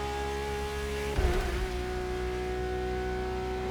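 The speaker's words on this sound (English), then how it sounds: "very impressed with the car sounds in this game." A Liberty Walk car's engine in the racing game The Crew Motorfest holds a steady high drone with tonal harmonics, broken by a brief louder burst and shift partway through, with no speech.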